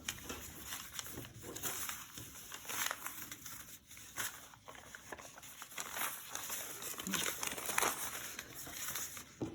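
A long, narrow steel dinnerware knife slices through a paper bag, making soft repeated crinkling and tearing scrapes, close and quiet, in uneven strokes.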